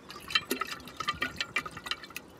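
Cold filtered water is poured in while making water kefir, giving quiet, irregular trickling and splashing with small droplet sounds throughout.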